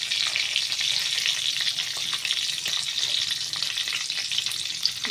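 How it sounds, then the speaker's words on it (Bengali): Bay leaf, dried red chilli and five-spice seeds frying in ghee, a bright continuous close sizzle with faint stirring scrapes, no voices. "ফোড়নটা আমার বেশ ভাজা ভাজা হয়ে গেছে।"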